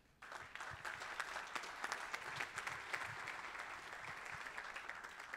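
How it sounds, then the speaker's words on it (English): A conference audience at a tech summit gives a warm round of applause for the Plug and Play team, dense clapping starting abruptly and continuing evenly throughout at moderate distance. "So please give a round of applause for this excellent team here."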